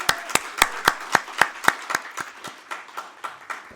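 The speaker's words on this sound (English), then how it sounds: "Morris Alfonso, a big round of applause, please?" Rhythmic clapping from an audience applauding a sponsor at an opening speech, about a dozen sharp, evenly spaced claps in unison that start strong and fade gradually in loudness.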